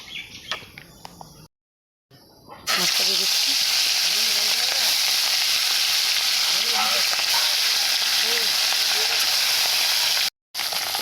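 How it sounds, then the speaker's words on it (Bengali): Rohu fish pieces, salted, frying in hot oil, a loud dense continuous sizzle filling most of the stretch after a quieter start with a brief silent gap. "মাছটা দিয়ে দিচ্ছি মাছটা ভাজা হয়ে গেছে"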